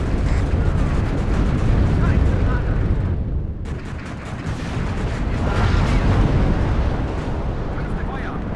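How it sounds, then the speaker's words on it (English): Artillery strike in the video game WARNO: loud, sustained explosive rumble of shelling that dips briefly, then rolls on as a dense wall of booms. "Artillery should be here shortly."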